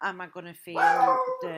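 A dog barks and whines in a home, close by and partly over a woman's ongoing speech.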